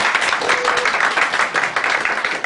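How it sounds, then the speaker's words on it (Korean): A church congregation applauds in welcome, dense steady clapping from many hands filling the room loudly for a couple of seconds. "박수로 환영합니다."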